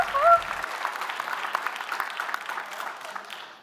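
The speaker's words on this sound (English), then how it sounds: "One more applause for Christine." Audience applause at an awards ceremony, a steady wash of clapping from a crowd that fades gradually over a few seconds, with a brief voice at the very start.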